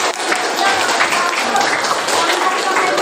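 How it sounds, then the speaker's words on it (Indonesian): Children in a school classroom clap their hands in a dense, steady round of applause lasting about three seconds, loud and close. Voices mix in beneath the clapping. "Selamat tepuk tangan buat kalian semuanya"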